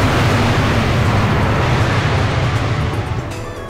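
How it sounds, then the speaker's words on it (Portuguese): Drain weapon fired by the computer in the audio game Laser Breakout: a loud, sustained rumbling blast with heavy low-end roar that holds steady for about three seconds before tapering off. "Ordenador dispara um drenagem"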